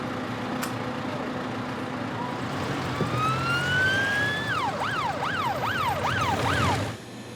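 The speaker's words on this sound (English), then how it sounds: "He's going by ambulance to the hospital now." An ambulance siren sweeps up in a rising wail and then switches to a fast, regular up-down warble, loud and close against steady traffic rumble before cutting off near the end.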